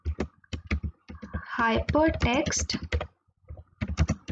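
Computer keyboard typing in quick bursts of sharp clicks, close and fairly loud, pausing while someone speaks and resuming afterward.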